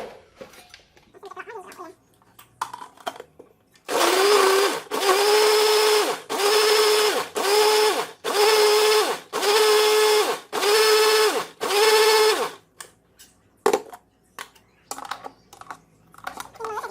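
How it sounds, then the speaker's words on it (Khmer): An electric blender whirs through peeled oranges for jelly in repeated loud bursts, about six pulses of a couple of seconds each, with short pauses between and quiet kitchen sounds before and after. "ហើយយើងក្រឡុកវាបងប្អូន"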